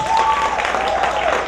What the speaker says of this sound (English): Let's give them a round of applause, huh?